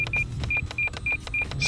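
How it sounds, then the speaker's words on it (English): An RC plane transmitter timer gives a run of short, evenly spaced high electronic beeps, loud and close over a steady low engine or wind rumble, with no talking. "The beeping is just a timer."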